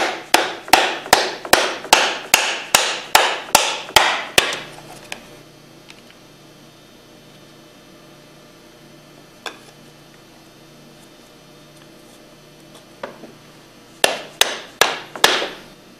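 Pump parts for a Hypro 2535S triplex plunger pump are driven in with a cup spreader and PVC pipe, producing a rapid series of loud, close hammer strikes, a pause with a few stray taps, then another quick burst of blows.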